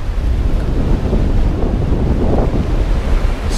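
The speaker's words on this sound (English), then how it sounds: "Wave have picked up now pretty much the last couple of hours." Sea waves wash continuously against a sailboat's hull under strong wind buffeting, with the mainsail and head sail up on the Norwegian Sea around midnight; a steady, loud roar with no talk.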